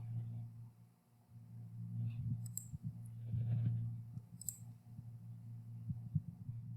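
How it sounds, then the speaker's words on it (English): Computer mouse clicks come through quietly, a few sparse, sharp ticks over a steady low electrical hum. "And just do a little clicking."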